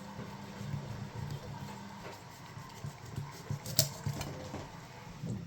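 A knife cuts through a raw whole chicken in the kitchen with soft irregular scrapes and taps, plus a few sharp clinks against a board or dish, all faint and close.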